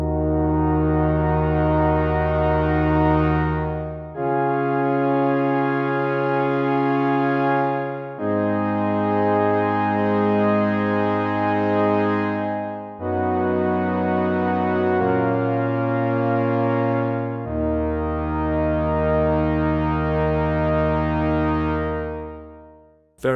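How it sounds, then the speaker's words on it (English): A Waldorf Quantum synthesizer plays a sawtooth patch with a slow low-pass filter sweep. Six long, loud sustained chords each swell gradually brighter as the filter opens, with short gaps between them. "So just a long sweeping attack opening up the filter"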